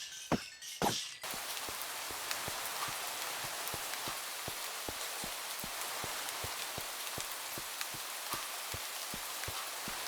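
Steady Minecraft rain hisses evenly throughout, with a regular series of sharp ticks or thuds stepping through it like footfalls, all fairly faint and with no talking.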